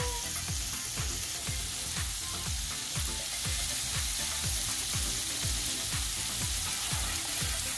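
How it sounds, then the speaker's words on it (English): Garlic sizzles steadily in a hot pan while a utensil stirs it in a fast, regular rhythm of scrapes, close and clear, with no talking. "Move your garlic around so it doesn't burn"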